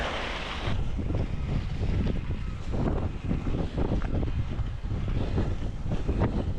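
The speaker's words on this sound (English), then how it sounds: "Super windy out." Strong wind roars and buffets a chest-mounted GoPro microphone nonstop on the Wilder Ridge Loop trail in Santa Cruz, a loud rumbling gusty rush throughout.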